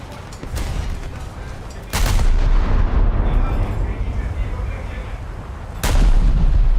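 Heavy warship guns fire in a naval combat video game. Two loud booming salvos land about four seconds apart, each followed by a long rumbling tail over steady battle noise.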